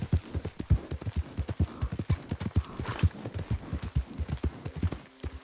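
Horse hooves clip-clop at a steady riding gait in the Red Dead Redemption 2 video game, a close, even rhythm of hoof falls that carries on without a break.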